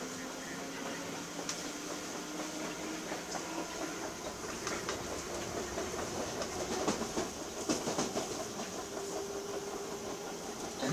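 A London Underground Piccadilly line train runs between Hounslow stations toward Heathrow, giving a steady loud rumble and wheel clatter with rhythmic track clicks, heard from inside the carriage.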